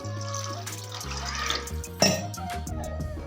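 Water pours in a steady stream into a cooking pan of fish curry, its pitch rising as the pan fills, with a brief splash partway through.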